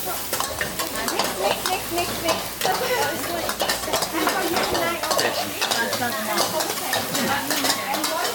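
Rice being stir-fried in a pan during Thai cooking, with a loud, steady sizzle and frying hiss and a spatula repeatedly scraping and knocking against the pan throughout.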